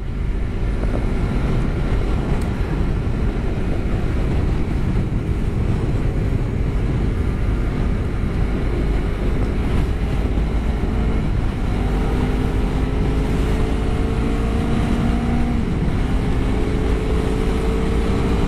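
Honda CBR250RR 250cc motorcycle engine while riding, a steady droning hum buried under heavy wind rush for the whole stretch, with faint rising tones late on, no talking.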